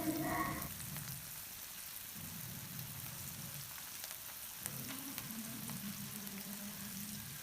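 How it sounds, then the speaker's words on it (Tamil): Ragi pakoda, finger millet fritters, frying in hot oil: a continuous, even crackling sizzle heard close up, with a brief brighter burst at the start and a slight swell midway, no talking. "எண்ணெய் நல்லா சூடானதும் நம்ம அந்த மாவுலேருந்து கொஞ்சம் கொஞ்சமாக எடுத்து பக்கோடா போட ஆரம்பிச்சிடலாம்"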